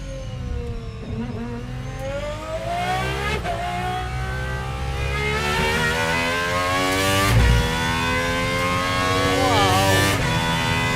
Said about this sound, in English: the vibration of this engine. I can feel it in my chest.